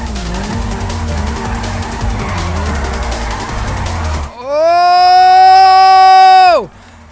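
A Futo GT in GTA 5 drifts under the handbrake with loud engine noise, then its tires let out a sustained, rising screech lasting about two seconds before it cuts off abruptly.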